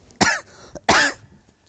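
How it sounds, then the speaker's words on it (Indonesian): Two harsh coughs, about half a second apart, from a person in a crowd at an Islamic dawn lecture, loud and close with no talk over them. "sampai batuk tuh"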